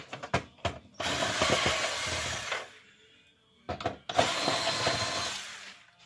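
A power screwdriver removes screws from an HP Officejet 4620 printer, giving two loud whirring bursts of about two seconds each, separated by a short pause and preceded by clicks and handling.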